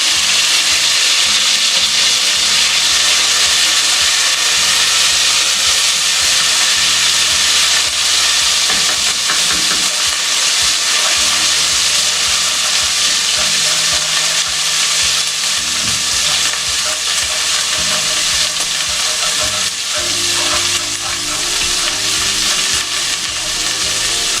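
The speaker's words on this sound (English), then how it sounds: "Fry this nicely." Garlic fries in a pan for Hakka noodles with a loud, continuous hissing sizzle that stays dense and unbroken throughout, with no talking.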